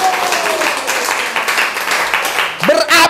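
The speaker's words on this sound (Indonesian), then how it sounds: "Berikan sorak-sorai buat Tuhan." Indonesian-speaking congregation cheering and clapping for God, a steady wash of applause and shouts, loud and close, with a voice rising over the noise near the end.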